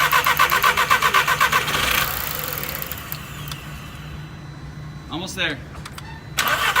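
A VW GTI engine cranks with a fast rhythmic churn for about two seconds, then catches and settles into a steady idle close by. A voice speaks briefly over it.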